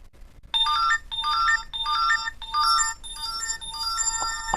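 A mobile phone rings with a repeating electronic ringtone, about six bursts of chiming tones at a steady rhythm, close and clear, with no talk over it.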